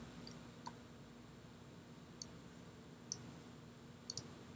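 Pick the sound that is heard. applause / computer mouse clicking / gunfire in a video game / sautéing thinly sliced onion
computer mouse clicking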